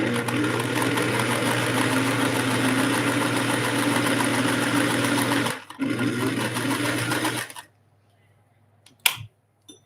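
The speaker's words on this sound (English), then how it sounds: "And now my little tree trunk is sewn down." An electric sewing machine stitches quilt appliqué in a steady, close mechanical whir for several seconds, pauses briefly, runs again, then stops, leaving near silence broken by a single click.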